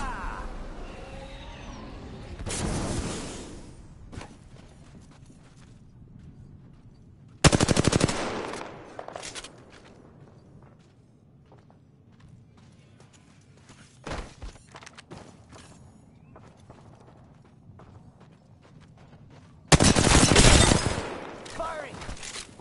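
Bursts of automatic gunfire from the video game Apex Legends, in three loud volleys separated by quieter stretches of footsteps and thuds in ranked play.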